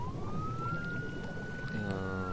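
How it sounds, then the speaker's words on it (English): A police car siren wails in ArmA 3, a single steady rising tone that holds loud over a low rumbling game background throughout. "Oh no, they're sending a police car for me."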